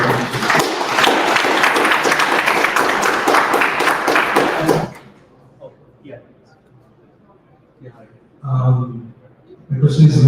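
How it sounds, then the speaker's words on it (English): An audience at a DevFest tech event at District Hall in Boston applauds steadily for about five seconds, then the clapping stops abruptly, leaving a quiet room with a few soft sounds and brief talking. "Please give a big round of applause for"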